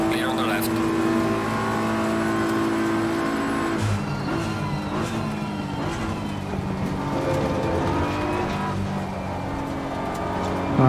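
Race car engines in Assetto Corsa Competizione drone and rev steadily with layered harmonic tones, one car drawing alongside and passing close, with someone talking over the engine noise.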